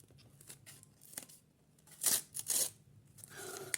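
A small plastic packet of paper craft nails being torn open in a few sharp ripping bursts, with softer crinkling handling sounds before and after, close to the listener.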